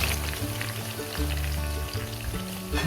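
Chicken 65 pieces fry in hot oil in a pan on a tile stove, giving a loud, steady sizzle with crackling bursts and an occasional stir near the end.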